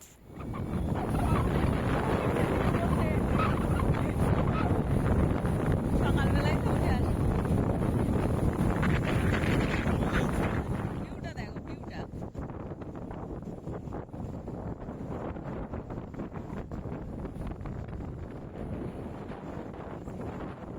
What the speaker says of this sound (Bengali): তোমরা হাওয়ার আওয়াজ শুনে বুঝতে পারছো